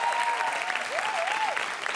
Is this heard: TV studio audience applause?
yes